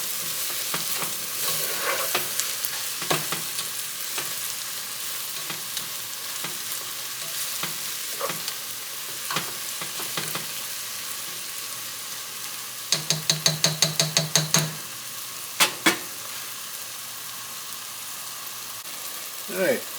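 Chicken ala king ingredients sizzle and fry in a pan, a steady hiss broken by scattered clicks and a quick burst of utensil scrapes and taps from stirring, close and moderately loud with no voices.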